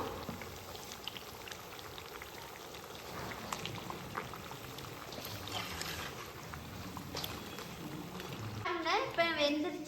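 A papad (appalam) frying in hot oil, a continuous soft bubbling crackle that swells slightly near the end as the bubbles settle.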